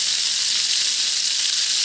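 A steady, roaring hiss of a small stove made from a Bud Light aluminum bottle, burning very hot, constant and close, with no talking over it.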